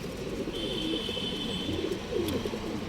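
Pigeons sold as good-quality breeding birds give soft, low cooing calls in short repeated phrases, close by over a steady background hum, with no one talking.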